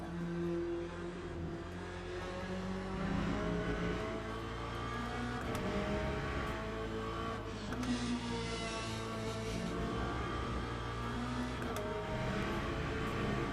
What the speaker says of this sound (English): I know that off-power sound might be unpleasant, but that's just what the Corvette sounds like